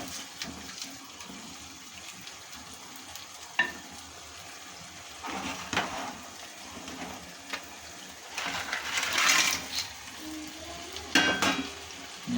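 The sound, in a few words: crab frying and stirring in curry masala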